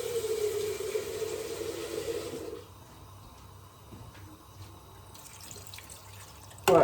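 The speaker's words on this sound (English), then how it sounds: "So let's put some water in here." Water pours into a stew pot of gizzard and tripe, a close, steady splashing stream for about two and a half seconds, then quiet kitchen sounds with small clinks.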